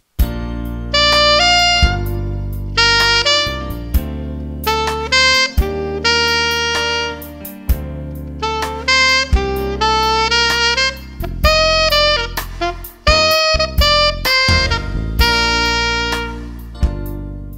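Saxophone phrase played with accents, slurs and a mix of long and short notes, a close, loud and continuous melodic line with crisp articulations and brief gaps between figures.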